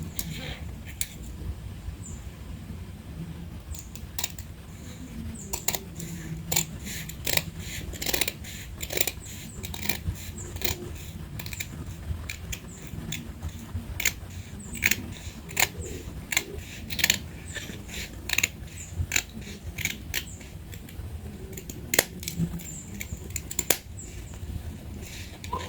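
Scissors cut out fabric pieces for a gathered bustier gown, giving a steady run of sharp, close snips and clicks over a soft low room hum, with no talking.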